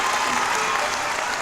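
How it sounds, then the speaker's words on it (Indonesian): A small studio crew claps for a talk show with no audience present, giving a brief burst of steady, close applause. "siapapun yang ada di sini saya suruh tepuk tangannya"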